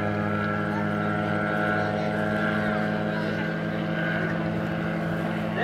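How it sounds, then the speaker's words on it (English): A Helio Courier STOL airplane circles overhead in a tight pattern before a short-field landing at a grass airstrip. Its piston engine drones steadily with strong, even harmonics, moderately distant and unbroken throughout, with wind noise mixed in. "now we'll be coming around in a 20-foot pattern to do a short field landing right in front of us"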